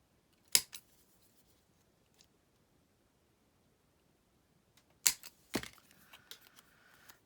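Someone punches out cardstock corner pieces with a hand hole punch. A sharp, isolated click-clack comes first, then a pause, then two more crisp punch snaps close together, each followed by faint rattling.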